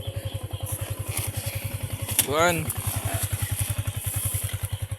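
Motorcycle engine runs at a steady idle close by, a loud rhythmic thumping throughout, while a voice speaks briefly over it in the middle.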